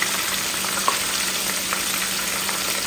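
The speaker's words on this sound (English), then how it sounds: "So I started adding the shrimp" Shrimp frying in a hot pan at home while cooking dinner, a steady close sizzle and crackle with faint stirring clicks throughout, no talk.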